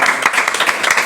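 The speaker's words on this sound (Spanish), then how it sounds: "fuerte aplauso para él." Audience applause at a talk on the Basque comic scene, a steady burst of clapping from the crowd heard briefly and fairly loud.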